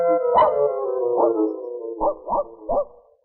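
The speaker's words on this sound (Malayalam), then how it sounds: "പട്ടി കിടന്ന് ബഹളം വെക്കണ കണ്ട," A dog barks at night in a Malayalam movie scene: one long drawn-out howling bark, then a series of sharp, loud, close barks in an uneven rhythm, with no talk.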